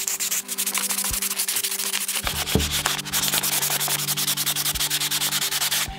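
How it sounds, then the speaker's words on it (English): Sandpaper rubs the paint layer off an aluminum soda can in quick, rhythmic back-and-forth scrubbing strokes, close and steady, with no one talking. "First I'm gonna use the sandpaper to get rid of the paint layer on this can."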